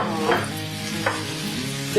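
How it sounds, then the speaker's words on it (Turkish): Onion sizzling in a pan with stirring sounds, a steady hiss close up, alone without voices. "Şimdi ince doğranmış bir büyük boy soğanımızı ilave ediyoruz."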